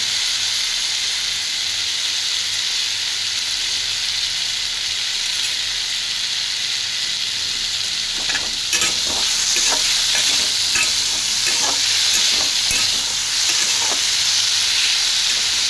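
A pan of food with turmeric and sugar frying in a steady, bright hiss; partway through, spatula scrapes and clatter join in as it is stirred, with no voices.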